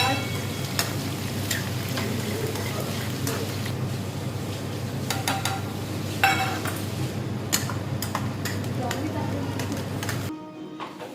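Potato and green bean curry frying with cumin and onion in a home kitchen, a steady close sizzle with occasional utensil clinks and stirring, ending abruptly near the close.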